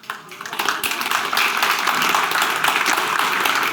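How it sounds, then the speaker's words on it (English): Lecture audience clapping during an architecture talk about a stadium, a dense, steady wash of applause rising after a brief start and holding strong to the end. "At least I got a clap for something"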